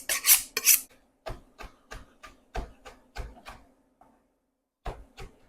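A knife chops fresh mint and coriander together finely on a board, a run of close, evenly spaced thuds with a brief pause before the chopping resumes, and no voices.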